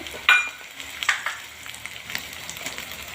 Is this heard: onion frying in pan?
yes